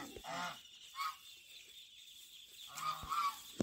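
Domestic geese honk in short nasal bursts, a few calls spaced apart with quieter gaps between, fairly close by, kept penned apart from their ducklings.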